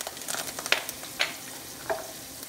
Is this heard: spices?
yes